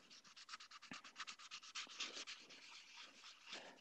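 Wet sanding a 3D print with 600 grit sandpaper makes a quick, rhythmic back-and-forth rasping, about a dozen close strokes per few seconds, soft and steady with no talk.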